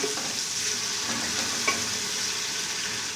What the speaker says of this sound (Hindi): प्याज को हल्का सा नरम करेंगे।